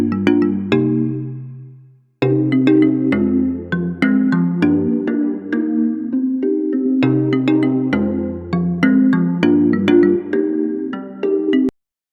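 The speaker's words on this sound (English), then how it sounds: "And I also have a kalimba right here." Marimba and kalimba play a plucked, reverb-soaked melody together in a dancehall beat, bright mallet and tine notes in steady phrases with a short gap near the start, no voices.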